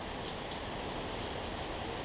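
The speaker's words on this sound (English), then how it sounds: "we wait on the rain." Rain falls in a faint, even hiss that runs unbroken through the short stretch, with no distinct drops or other sounds standing out.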